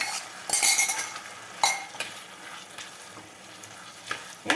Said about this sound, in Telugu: బాగా పచ్చివాసన పోయే వరకు వేయించుకున్నాను